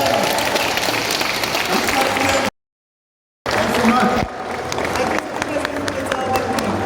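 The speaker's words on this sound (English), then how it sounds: "Big round of applause" A crowd at a Police Academy reunion event in Manchester applauds a guest as he comes up: dense, steady clapping broken by a second-long gap of silence, with voices talking over it.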